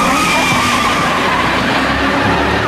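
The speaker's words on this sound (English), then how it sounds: "I really enjoy the engine screeching sound effect" A car engine screeching effect from a TV sitcom, a loud continuous tire-squeal and skid sound holding steady for a few seconds.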